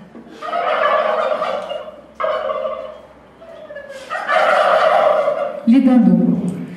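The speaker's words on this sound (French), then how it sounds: "Les dindons." Turkeys at a poultry farm gobble in loud, rapid bursts, several calls overlapping in close succession with short pauses between.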